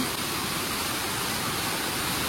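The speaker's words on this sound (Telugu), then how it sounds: "చూడండి వాటర్ అయితే మామూలుగా రావట్లేదు, వర్షం పడింది అనమాట నైట్" A waterfall swollen by overnight rain beside a ghat road roars as a steady, loud, unbroken wash of rushing water, with no other sounds rising above it.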